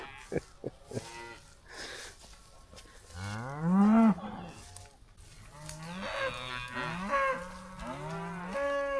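Cattle in a pasture moo close by, several long, drawn-out calls from more than one animal, with a few short grunts at the start and quiet gaps between calls.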